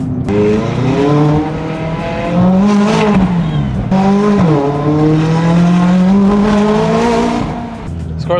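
A tuned McLaren 570S with about 150 extra horsepower revs loudly and close by under acceleration, its engine note rising, dipping and climbing again in two surges, with hints of tire squeal.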